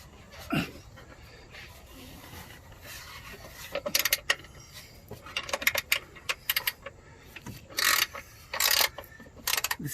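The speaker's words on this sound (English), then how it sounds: "This is a ratchet wrench," A ratchet wrench works on an upper engine mount bolt of a 2006 Toyota Sienna, giving bursts of quick metallic clicking separated by pauses, close and fairly loud.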